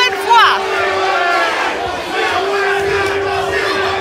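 A wrestling crowd at an FWE show in Brooklyn cheers and chants rhythmically for Ivelisse Velez, a loud dense roar from many voices with a commentator talking over it.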